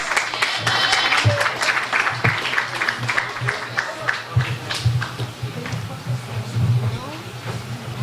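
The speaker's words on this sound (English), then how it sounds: "Give them a round of applause" An audience applauds at a National Cooperative League event in 2019, steady clapping filling the room with a fuller burst near the end, while a voice and crowd chatter run underneath.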